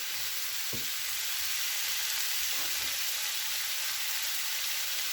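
Peppers and mushrooms sauté in a pan for a breakfast mushroom dish, giving a steady, close, hissing sizzle throughout, with a couple of soft low knocks early on.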